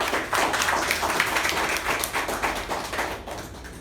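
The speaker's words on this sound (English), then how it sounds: "Can we have a round of applause?" A round of applause fills a Toastmasters meeting room, steady dense clapping from a small gathering lasting about four seconds, fairly close and even.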